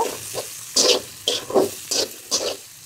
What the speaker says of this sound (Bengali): অ্যান্ড এই তো আমি মটরও দিয়ে দিয়েছি, এখন একটু ভেজে নিব